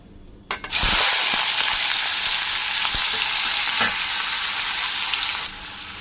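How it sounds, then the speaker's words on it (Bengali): Onions dropped into hot mustard oil burst into a loud, close sizzle that holds steady for several seconds, broken by a few sharp stirring clicks before easing slightly at the end. "এবার পেঁয়াজ লাল করে ভেজে নেব"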